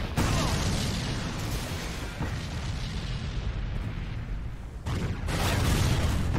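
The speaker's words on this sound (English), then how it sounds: "Honestly, really good looking explosion effect." Explosion effect in Resident Evil 5 on Xbox Series X: a dense, sustained roaring blast rumble filling the whole stretch, dipping briefly before surging again near the end.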